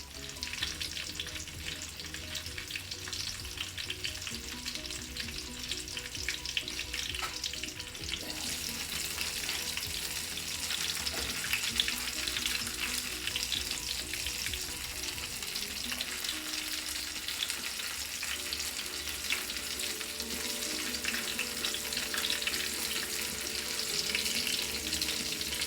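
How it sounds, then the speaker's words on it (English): Jamaican banana fritters fry in a covered pan with a continuous, even sizzle and crackle that holds steady and close throughout, with no talking. "I'm gonna cover it up and just let the other side cook for about 3 more minutes."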